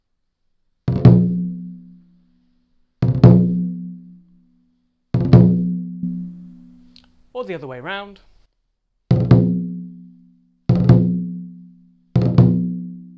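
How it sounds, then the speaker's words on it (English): Lion dance drum struck with loosely held sticks in a drag rudiment that lets the stick bounce on the skin, sounding as six separate booming strikes with ringing decay, while a voice speaks briefly between them. "What we're looking for this time though is not a single strike before the main hand hits."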